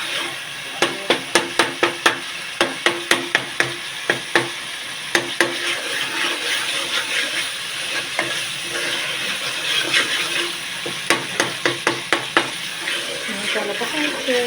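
Spiced masala paste with onion and chutney spices cooks in a pan for a Gujarati shaak, with a spoon rapidly scraping and clacking against the pan in repeated bursts over a low, steady sizzle.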